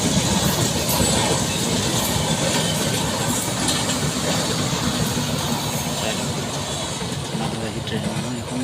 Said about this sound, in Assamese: ইয়াত একটা ৰঙা বগা ট্ৰেইন চক চক চক চক চক চক গৈ আছে।